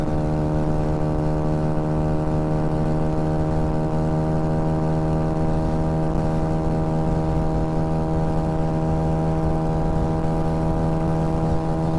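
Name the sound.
Honda Ruckus scooter engine running at speed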